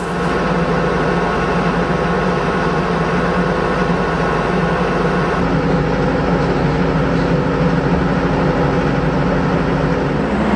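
A farm tractor engine runs at a steady, loud drone out in a donkey pasture, constant and unbroken, with a slight shift in tone partway through and no voices.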